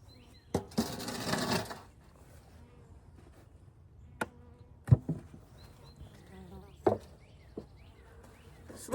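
Honeybees at a full hive give a low, steady hum through the whole stretch, with a loud rustling burst near the start and a few sharp knocks and clicks scattered after it.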